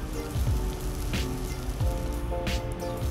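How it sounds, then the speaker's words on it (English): Five sliced shallots sauté in two ounces of oil in a large pot, giving a soft, steady sizzle and crackle at close range with faint scattered pops. "heat up 2 ounces of oil in a large pot and saute 5 sliced shallots"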